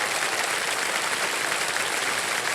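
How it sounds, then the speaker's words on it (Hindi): A studio audience at the KBC quiz show claps in a dense, steady ovation that holds at an even level throughout, with no voices rising above it. "तालियां बज जाए इनके लिए देने के लिए।"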